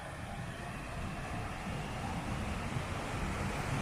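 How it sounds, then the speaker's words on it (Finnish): A waterfall rushing in Seiland National Park in northern Norway, a steady broad roar of falling water mixed with wind buffeting the microphone, continuous and unbroken with no voices. "Sieltä tulee toinen vesiputous."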